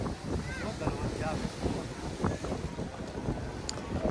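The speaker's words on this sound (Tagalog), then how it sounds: "Malamig, mahangin." Strong, cold wind buffeting the microphone in Los Angeles with rough gusty rumble, while people talk over it.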